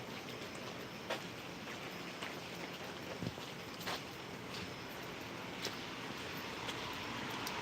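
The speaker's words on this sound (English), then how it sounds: "It's been raining a lot up here." Steady broadband hiss of rainfall with occasional louder drips and patters, continuous and even throughout, no voices.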